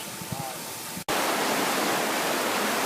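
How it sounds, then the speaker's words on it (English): Water pouring into a canal lock chamber, heard as a loud, steady broadband rush that starts suddenly after a second of quieter background and continues without a break. "And now the water's being pumped through."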